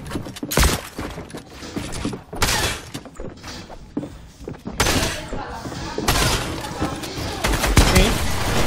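Bursts of Fortnite gunfire and impacts crackle in uneven volleys, mixed with Portuguese talk and game noise throughout.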